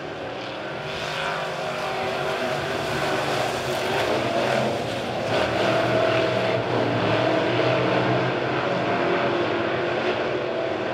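Midwest modified race cars roar together under green flag on a dirt oval at Springfield, a steady, loud wall of engine noise from the pack heard at a distance, with no clear speech over it.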